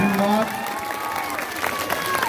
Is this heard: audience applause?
yes